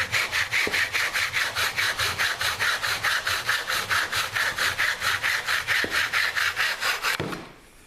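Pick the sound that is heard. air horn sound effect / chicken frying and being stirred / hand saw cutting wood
hand saw cutting wood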